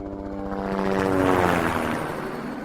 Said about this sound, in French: Un hélicoptère survole l'école.